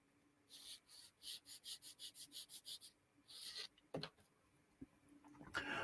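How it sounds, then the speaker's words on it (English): Rapid back-and-forth rasping strokes of a sanding sponge on a scale model, about a dozen evenly paced passes, then a pause and a few scattered knocks and scrapes. "what we're going to do is sanding sponge"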